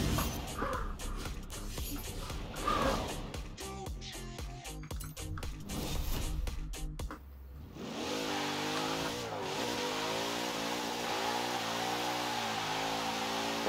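A 2014 Jeep Grand Cherokee in Forza Horizon 4 revs and slides, its engine tone rising and falling through shifting gears, first under busy music-like layers and then alone as a steady, drawn-out sliding roar.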